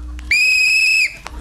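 A single sustained whistle, loud and steady, holding one pitch for under a second, with faint murmuring voices around it.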